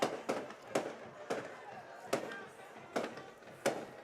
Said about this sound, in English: the fireworks are going off on the field and in the air